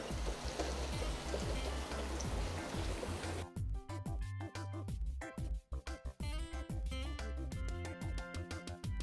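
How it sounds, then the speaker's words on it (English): Hot oil bubbles and sizzles continuously as chicken deep-fries, crackling with dense spitting pops that turn sharper and more broken partway through. "while you hear that bubbling away"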